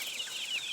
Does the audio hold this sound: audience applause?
no